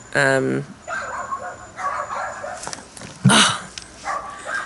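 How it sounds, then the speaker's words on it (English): Dogs bark and yip at each other at a garden fence, several short sharp barks scattered through the clip with quieter whimpering sounds between. "they bark at each other and then run to the next hole"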